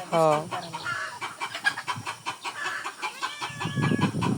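Chickens cluck and call in short bursts close by, mixed with a brief voice and some low background rumble.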